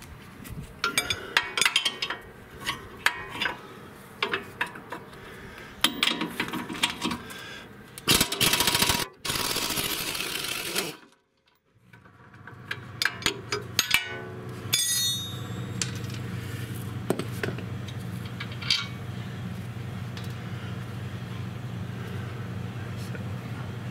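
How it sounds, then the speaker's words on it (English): Lower strut bolt being removed from a Toyota Tacoma during a lift kit install, with bursts of metallic clanks, ratcheting and a loud impact-wrench rattle in the middle, then a steady low hum with scattered taps. "Guess first I'll take off the lower strut bolt."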